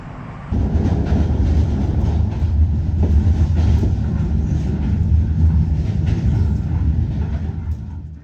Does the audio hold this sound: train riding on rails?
yes